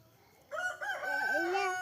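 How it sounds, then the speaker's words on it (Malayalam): A rooster crows once, a clear rising-and-falling cock-a-doodle-doo at moderate distance, heard on its own against a quiet background. "ഓ തന്നെ വിളിക്കുന്ന കോഴി."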